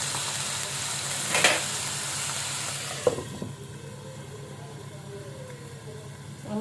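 Thin meat slices frying in butter in a pan, a steady close hiss and sizzle with a couple of clattering knocks early on, softening slightly toward the end.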